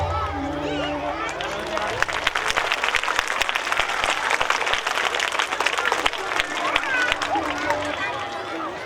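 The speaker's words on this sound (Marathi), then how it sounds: "विद्यार्थी मित्रांनो, तुम्ही टाळ्या बरोबरने वाजवल्या" Schoolchildren at a school function in Ghansoli, Navi Mumbai, clap together in a sustained burst of applause lasting several seconds, dense and steady throughout. A crowd murmurs beneath, and a voice is heard near the start and end.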